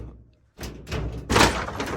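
A door is pounded and forced hard, as if someone is trying to break it down: a short hush, then a series of loud, heavy thuds and crashing blows close by.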